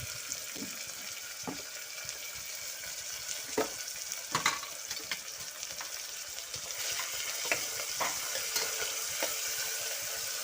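Curry leaves frying with tomato in a curry pan give a steady, busy crackling sizzle throughout, with occasional sharper pops and spoon scrapes, close and moderately loud, no voices.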